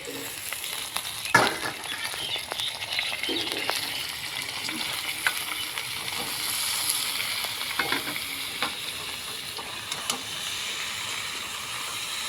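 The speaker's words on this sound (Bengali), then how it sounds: "পাঁচ মিনিট সময় নিয়ে আলুটাকে ভেজে নিলাম এখন এখানে দিয়ে দেবো কেটে রাখা টমেটো আর বেগুন একসঙ্গে দিয়ে দেবো" Potatoes frying in a pan as chopped tomato and eggplant go in, a steady soft sizzle and hiss with scattered scraping stirs and small pops, quiet and close with no voices.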